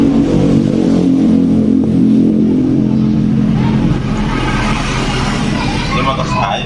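A Honda Supra X 125 fuel-injected motorcycle engine revs up close and loud, holding a dense, continuous roar with slight surges throughout.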